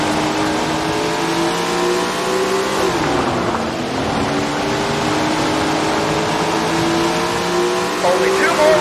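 Sprint car engines roar continuously in Tony Stewart's Sprint Car Racing video game at Washington Park, several engine tones overlapping and shifting pitch as they rev and ease off, loud and steady throughout.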